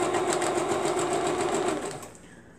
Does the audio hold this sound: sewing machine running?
yes